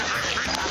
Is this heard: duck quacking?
yes